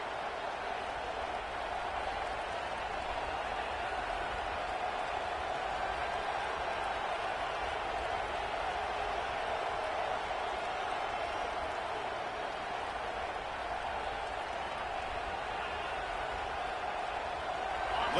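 Loud stadium crowd at an American football game on third down, keeping up a steady, dense roar of voices for the whole stretch with no clear pauses.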